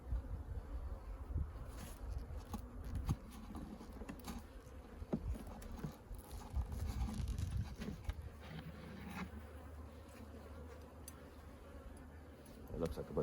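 Agitated honey bees swarm around an opened hive on a ranch late in the season, a dense, close buzzing drone with scattered sharper passes as people talk over it.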